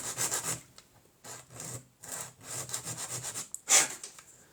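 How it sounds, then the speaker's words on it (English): Fine sanding of a miniature wooden dollhouse table by hand, soft close rubbing strokes in short repeated bursts with brief pauses, ending in one sharper scrape. "I need to sand this thing"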